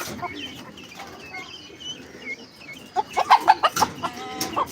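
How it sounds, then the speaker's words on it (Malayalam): A rooster clucks in a series of quick, rhythmic calls close by, following a stretch of softer chicken murmuring and faint background noise. "പൂവൻ കോഴിയുണ്ട് കണ്ട"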